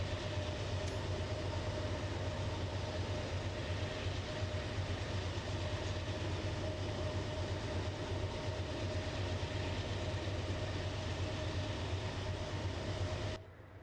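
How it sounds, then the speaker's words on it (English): A GE AC4400CW diesel locomotive in the Train Simulator 2020 game rumbles with a loud, steady engine drone and rail noise, holding constant before dropping off abruptly at the very end. "Love hearing that engine purr."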